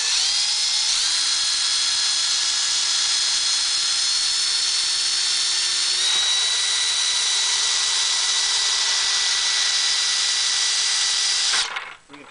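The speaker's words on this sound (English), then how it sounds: "I'll go ahead and drill these 3/16 holes out in the bottom of the bucket and the side one here." Electric drill boring 3/16-inch holes into a plastic 5-gallon bucket, a high steady whine that holds for about eleven seconds and then winds down abruptly.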